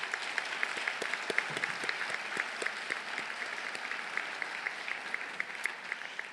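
Sustained audience applause at a graduation hooding ceremony after a list of prize recipients is read; even, moderately distant clapping with no speech over it.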